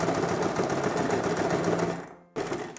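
A sewing machine runs steadily while stitching a seam, including back stitching, as fabric is folded along the way. The whirring is close and continuous, then drops out briefly before resuming near the end.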